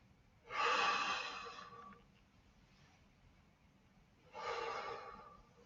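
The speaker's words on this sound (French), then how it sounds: "je viens inspirer et expirer en descendant" Two slow, audible breaths during a gentle morning exercise routine, each a long airy rush lasting over a second, several seconds apart, close and soft with no talking.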